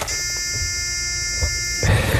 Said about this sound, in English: He gets a buzzer on that, Terry,